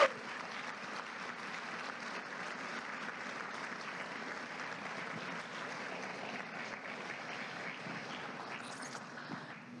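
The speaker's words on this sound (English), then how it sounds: "I think we should give them a round of applause." A campus event audience gives a steady round of applause for the staff and law enforcement, a moderately quiet, continuous clapping wash from a large crowd that holds evenly for about ten seconds.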